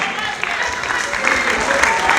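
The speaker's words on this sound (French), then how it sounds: "On les applaudit très fort." Film premiere audience applauding the technical crew, loud, dense clapping from a crowd that swells slightly toward the end.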